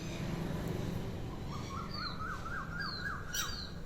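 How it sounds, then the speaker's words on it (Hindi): An Asian koel calls in a rising, repeated series of clear notes, building in pitch and spacing over a few seconds, with other bird chirps and faint background noise around it. "कोयल की आवाज़"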